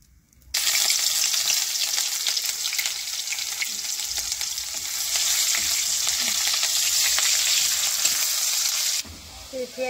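Onions frying in a pan while coriander leaves are being cooked, a loud continuous sizzle with steady crackle that holds for most of the stretch before dropping off near the end.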